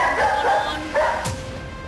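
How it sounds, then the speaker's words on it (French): A dog barking in a house during a panicked moment, a few sharp barks over a noisy, reverberant background with a sudden loud thump near the end. "Il aboyait comme un fou."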